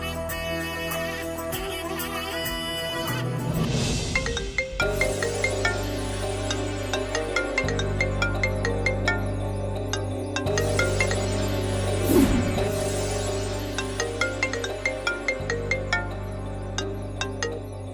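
A phone ringtone plays a repeating electronic melody of bright chiming tones in a steady pattern over a low sustained background, running for many seconds without talk.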